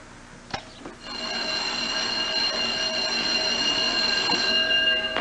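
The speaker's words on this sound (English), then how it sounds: "That's the sound of a school bell" A school bell plays from a tape player in a children's listening game, a couple of faint knocks and then a loud continuous electric ringing that carries on steadily to the end, with no talk.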